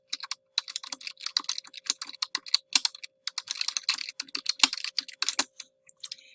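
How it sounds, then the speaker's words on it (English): Quick, irregular clicking of a computer keyboard as a few words are typed, close and crisp, with short pauses between bursts of keystrokes and no talking. "I'm just going to randomly type in a few words."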